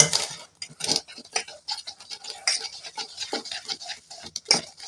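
Flour, sugar and salt stirred together in a bowl for Mughlai paratha dough. Close, irregular scraping and light clinks of a utensil against the bowl run throughout with no talking.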